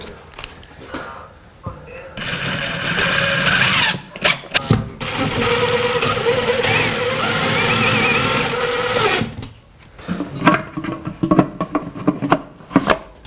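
A power drill drives drywall screws while mounting a bracket for a home Level 2 charger, a sustained whirring buzz lasting several seconds, bracketed by short clicks and handling knocks.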